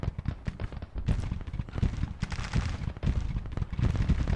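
Gunfire and artillery from a Grand Tactician Civil War battle crackle in dense, overlapping volleys, a continuous rattle of rifle shots with heavier booms mixed in throughout.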